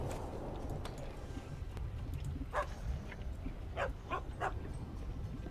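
A dog barks and yips in the Magic: the Gathering Arena video game, several short bursts and whimpers heard close over a low steady rumble.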